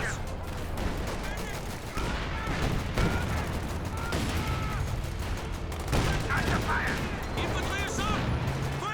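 Company of Heroes 2 battle with dense gunfire, bursts of machine-gun fire and artillery impacts from a King Tiger tank, continuous and loud, with commentary talking over it.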